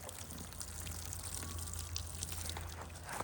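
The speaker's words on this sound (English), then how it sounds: "it's time to keep watering the stuff over here" Water pours and trickles steadily onto a compost heap while plants are being watered outdoors, a close continuous splashing hiss with no talk.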